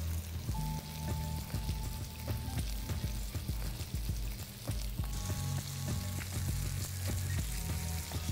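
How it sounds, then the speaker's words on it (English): Chettinad fish fries in a pan with a dense, continuous crackling sizzle full of small pops, close and steady with no talking. "I'm going to fry the fish for at least 5 minutes on one side and then I'm going to flip it over."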